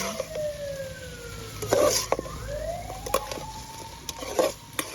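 Shrimp heads and ginger frying in hot oil, a steady close sizzle with occasional stirring scrapes and a faint siren-like tone drifting in the background, no talking.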